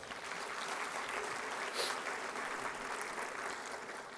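A crowd applauds a city council member at a State of the City event, broad continuous clapping that stays fairly distant and soft, with a brief swell in the middle.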